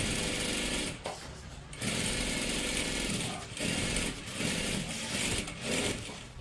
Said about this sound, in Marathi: एकदम कडेकडेला शिलाई मारत मारत घ्यायची आहे